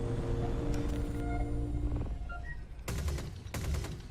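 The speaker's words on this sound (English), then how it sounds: "Now that's our Bane cannon there." Bane cannon on an Aegis Avenger ship in Star Citizen fires bursts of heavy gunfire over a deep rumbling engine hum, with a couple of sharp loud blasts near the end.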